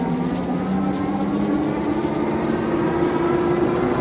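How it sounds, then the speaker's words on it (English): A 5th Wheel Knight electric bike motor winds up as the rider moves through pedal assist levels, a steady whine rising in pitch as it gathers speed toward about 20 mph, with road and wind rumble underneath and no talking. "You can hear the pickup there from the motor, picking up speed."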